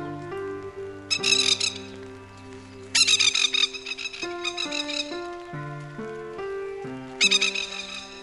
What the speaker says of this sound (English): The bird is chasing me.